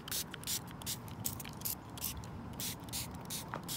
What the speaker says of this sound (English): Let me put some cold spray on myself.